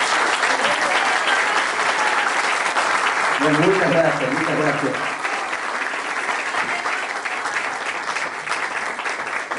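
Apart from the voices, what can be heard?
applause from an audience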